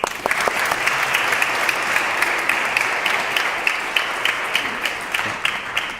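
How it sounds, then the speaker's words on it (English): An audience at the Tallinn Digital Summit 2022 applauds steadily and loudly after a panel session, a dense, even wash of clapping that continues for about six seconds and fades slightly at the end. "So a round of applause for you guys."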